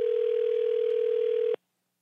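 A steady telephone dial tone holds loud and unbroken for about a second and a half, then cuts off abruptly into silence.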